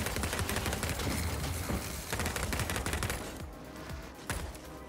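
Gunfire in a first-person shooter game: rapid, dense bursts of shots crackle continuously, close and loud, easing slightly toward the end before another burst.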